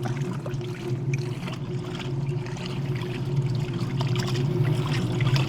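A vintage Maytag wringer washer rinsing soapy clothes in water gives a steady churning, sloshing wash with a constant low motor hum running evenly throughout.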